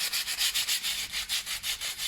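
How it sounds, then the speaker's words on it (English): Light sandpaper rubbed by hand over a painted, damp-affected wall, a close, rhythmic scratchy hiss with quick back-and-forth strokes several times a second. "just give it a sanding down,"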